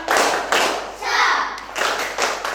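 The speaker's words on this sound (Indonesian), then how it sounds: "Yuk mulai tepuk semangat." A group claps in a lively rhythm, bursts of hand claps in quick patterns with brief pauses, mixed with faint voices.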